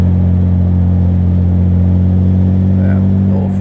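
A 1977 Jaguar SS 100 Suffolk engine with over 200 horsepower rumbles steadily at close range, a deep constant drone with a faint rev building near the end.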